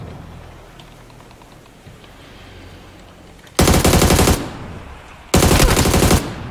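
Two loud bursts of automatic gunfire in the PUBG battle royale game, each lasting under a second, rattle out close and sharp over quiet background noise.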